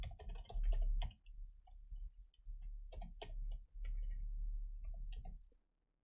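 Quick bursts of keystrokes clatter on a computer keyboard, close and fairly quiet, with short pauses between runs of typing.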